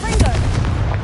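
Confringo fire spell blasting in Hogwarts Legacy, a loud, dense explosive burst with low rumble and crackling debris that carries on through the short moment, with game voices faintly underneath.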